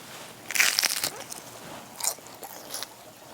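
Flaky, crunchy savory pastry with green onion is bitten into and chewed close up, giving a loud crackling crunch at first, then softer crisp crunches a couple more times.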